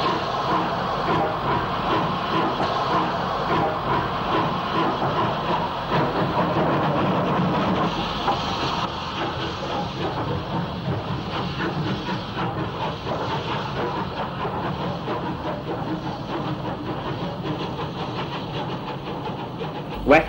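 Steam locomotive Biggin Hill, a 1950s-60s British Railways engine, pulls its train away from a station after wheelslip, giving a steady, loud rumble with rhythmic chuffing and rail noise that holds throughout.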